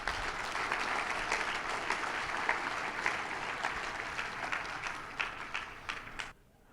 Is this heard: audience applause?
yes